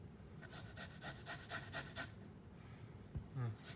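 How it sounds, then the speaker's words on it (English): Garlic is grated on a handheld microplane in a kitchen, giving soft, rhythmic rasping strokes close up, about eight in a row before a brief pause and a few more. "Got my little handy microplane. I'm just gonna go ahead and grate some garlic."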